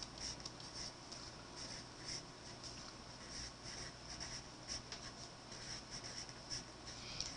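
A pencil scratches continuously across paper while someone copies a table of contents, a faint, soft, close rasp with slight rhythmic strokes throughout.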